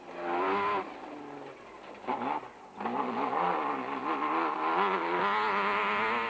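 Nissan-engined iBurst Bat special vehicle racing in the Lesotho Sun 400, its engine droning loudly and close, with rising and falling revs and a brief dip mid-run before it climbs again.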